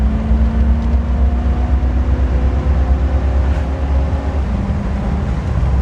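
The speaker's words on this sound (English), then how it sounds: "And it's laying into it, shifts into third at like 72" A 1969 Ford Mustang accelerating under load, its engine drone rising steadily in pitch and then dropping near the end as it shifts up a gear, heard close and loud from inside the car.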